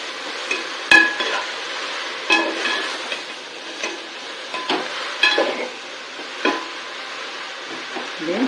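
Spinach sautéing in an open pan while a spoon scrapes and stirs it, a steady sizzle broken by scattered clinks and knocks against the metal, close up and without speech.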